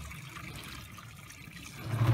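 Excess water drains out of soaked oyster mushroom (Pleurotus ostreatus) substrate, giving a steady close trickle and splash that swells slightly toward the end, with no voices.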